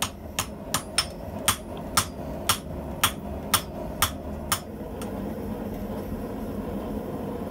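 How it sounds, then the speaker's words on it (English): About ten sharp hammer strikes on copper in an uneven rhythm, close and ringing, then they stop and a low steady hum continues alone. "copper is just so fun to hammer on"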